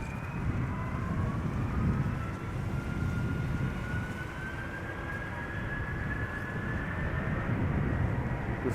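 A Delta Airlines jet departs Amsterdam Schiphol Airport, a loud sustained roar of engines with a slowly rising whine, continuous throughout and heard alone.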